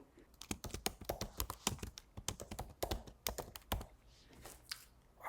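Fingers type on a computer keyboard in quick bursts of close, crisp key taps, pausing briefly, then a few softer clicks trail off near the end.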